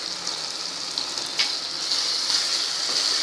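Turmeric and asafoetida hit hot oil with peas in the pan, giving a steady bright sizzle and crackle of frying close by, with no talking.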